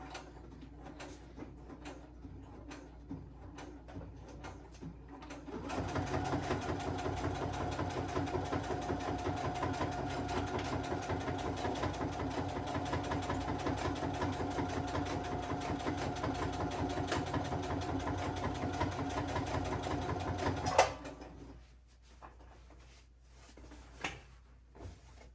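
A sewing machine runs a back stitch, its needle chattering in a steady, fairly quiet mechanical hum for about fifteen seconds before stopping with a small clunk, with faint handling noises before and after.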